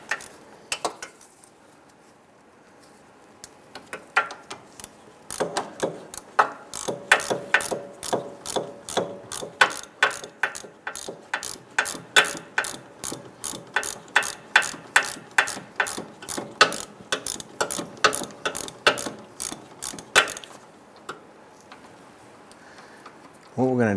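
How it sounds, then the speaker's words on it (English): Socket ratchet loosening the steering shaft coupler bolt on a 2005-2010 Chrysler 300, a long run of rapid, evenly spaced close clicks in bursts, loud and alone. "I'm going to go ahead and put our socket on this here with our ratchet. See if we can break that free."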